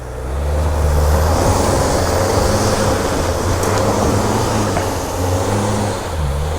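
A Land Rover Freelander 2 diesel crossover climbs a slippery grassy hill off-road, its engine straining in a loud, sustained drone with wavering revs as the wheels dig for grip.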